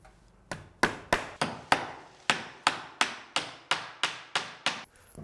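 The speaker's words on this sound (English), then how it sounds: "And then nail that on." Thirteen steady, evenly paced hammer blows drive nails through roofing felt into a wooden fascia board on a log cabin, each strike crisp, close and ringing briefly before the next.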